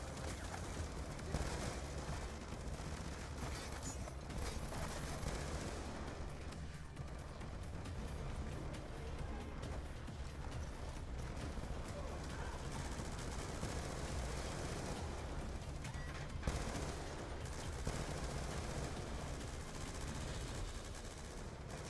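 Call of Duty Black Ops 2 battle with sustained distant gunfire, dense rattling volleys and scattered shots over a constant rumbling background, fairly faint throughout.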